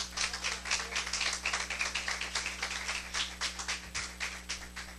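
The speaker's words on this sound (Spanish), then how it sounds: "dale un aplauso al Señor" A church congregation claps for the Lord in quick, rhythmic unison during a service, a fairly quiet, evenly pulsing patter over a low steady electrical hum.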